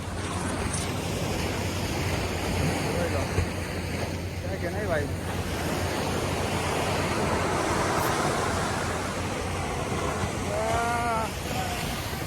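Sea waves roll and wash continuously at Madhavpur beach in Gujarat, mixed with wind buffeting the microphone, while someone briefly speaks nearby.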